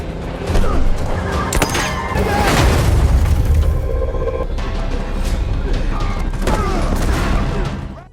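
Movie gunfight between DEA agents and cartel members, a dense, loud barrage of shots, booms and crashes layered over a constant roar of action-scene noise.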